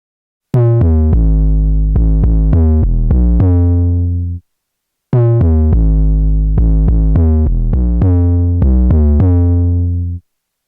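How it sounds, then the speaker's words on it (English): A saturated 808 bass in Beatmaker 3 plays a gritty, punchy pattern of deep sliding notes with a brighter buzzing edge, looping twice as loud solo phrases separated by a brief silence. "It really gave that 808 some extra punchiness and grit."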